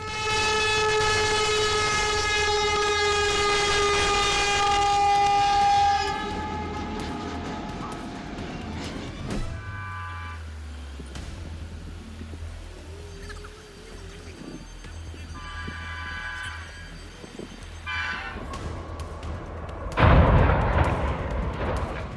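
A train passing the scene of a crash with another vehicle, its loud sustained horn blaring over heavy rail rumble, then the roar fading before a burst of noise at the end.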